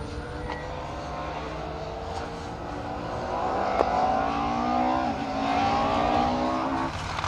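An MG rally car driven by Aston Baker on a stage of the Colin Ellmore Memorial Rally, its engine note droning steadily at a distance and rising and shifting pitch as it works through gears, with no voices over it.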